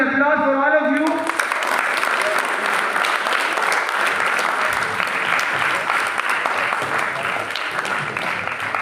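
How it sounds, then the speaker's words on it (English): Loud sustained applause from a school audience fills the room, starting abruptly after a brief tonal voice-like sound and continuing steadily to the end. "A wonderful applause for all of you."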